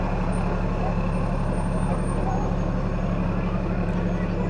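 A volunteer fire department truck rolls past in the 2018 Jamestown Fair parade, a loud steady engine rumble held throughout with a voice talking over it.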